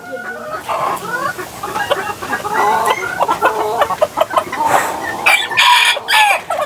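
Polish cap frizzle chickens at a farm, with a rooster crowing and hens clucking in repeated, fairly close and loud bursts, several calls overlapping across the clip with no talking.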